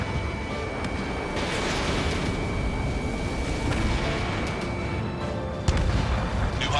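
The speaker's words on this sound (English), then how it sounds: "Missile hit." Missile strike and explosion in the Ace Combat 7 combat flight game, a dense sustained rumble of blasts and roaring engine noise with a sharper impact near the end, with no talk.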